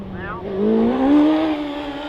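A race car running the Loton Park hill climb course in a short, loud pass, its engine note rising in pitch as it accelerates and then holding, with a voice faintly over it.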